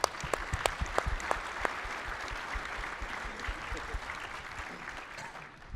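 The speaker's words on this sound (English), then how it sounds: "Can we give a round of applause for John?" An audience applauds a man named John at a new-administration expectations event, a steady wash of many hands clapping with a few sharp near claps, fading slightly toward the end.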